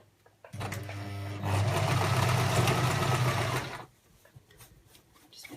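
Sewing a rice-filled fabric heat bag on a long stitch, a close sewing machine whirs briefly, then speeds into a steady loud run of about two seconds before stopping.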